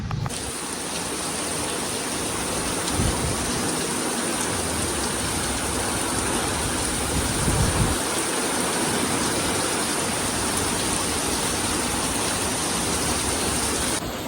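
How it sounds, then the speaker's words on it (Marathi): Heavy rain falling in a steady, dense rush of noise that holds unbroken and loud throughout, with a few low thumps underneath and no talk. "पाऊस बघा किती जोरदार चालू झालेला आहे"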